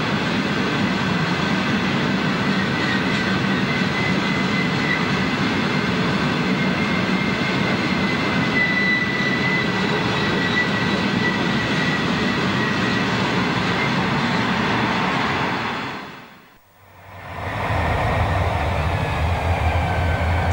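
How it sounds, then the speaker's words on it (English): Freight trains of aluminium hopper cars rumble past in 1993 near Bill, Wyoming, a loud continuous rolling roar with faint wheel squeal, cutting out briefly before resuming. "Same two trains are seen again, 3 miles nearer to Bill, Wyoming."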